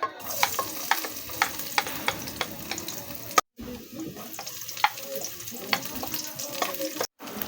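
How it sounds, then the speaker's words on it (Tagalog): Garlic, onion and ginger sautéing in a pan, a steady close sizzle with frequent sharp stirring clicks and scrapes of a utensil, briefly cut off twice. "Nag-start na pala ako mag-gisa ng bawang, sibuyas at luya."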